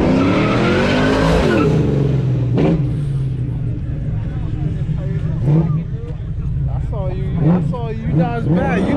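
A Mazda Miata spins figure-eight donuts at a late-night car meet, its tires squealing over a loud, steady engine drone, while a crowd talks and shouts close by throughout.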